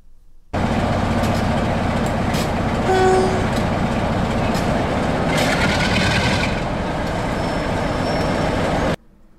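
A British Rail Class 47 diesel locomotive roars steadily close by for about eight seconds, a deep, loud engine rumble with a brief tonal note midway.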